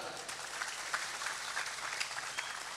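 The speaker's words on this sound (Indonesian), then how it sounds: "Boleh tepuk tangan." An audience at a humorous Indonesian religious lecture breaks into applause, a fairly faint, even patter of many hands with scattered louder claps across the short stretch.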